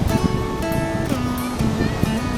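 Steady roar of ocean surf washing in at Sorake Beach, South Nias, Indonesia, constant and fairly loud, with wind buffeting the microphone and faint tonal sounds drifting through.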